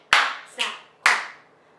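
Body percussion from the hands: three crisp, close snap and clap hits land about half a second apart, each ringing out briefly before the next, with no talking.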